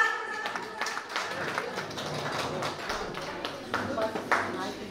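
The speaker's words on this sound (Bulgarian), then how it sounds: "Аплодисменти за бабата!" An audience claps for a grandmother at a Bulgarian first-birthday party where a live band plays. The applause is scattered and patchy, with sharp taps mixed into the room noise, while a voice keeps talking over it.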